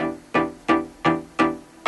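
A layered synth sound, a deep ES2 tone with a short staccato attack stacked on top, punches out four evenly spaced, quickly decaying hits, played alone.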